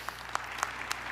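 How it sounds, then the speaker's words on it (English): Rolling applause from an audience at a mayoral medal ceremony, a thin spread of clapping with a few sharper claps standing out, fairly distant and steady throughout. "We can just do a rolling applause."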